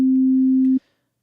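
A single sustained sine-like synth note from the Serum software synthesizer, a steady pure tone held for under a second before cutting off abruptly into silence.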